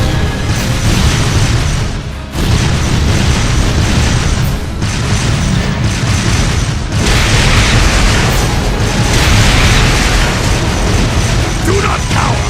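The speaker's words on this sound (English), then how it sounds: "Fire a barrage to cover your retreat!" Heavy, continuous booming from an artillery barrage in the video game Trails of Cold Steel II, loud and dense with repeated blasts rolling into one another over about twelve seconds, with brief dips between volleys.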